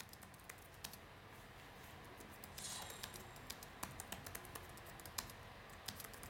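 Keys on an ASUS ROG Zephyrus GX701GX gaming laptop keyboard are typed on at an uneven pace, giving quiet, close clicky taps with a brief faster burst partway through.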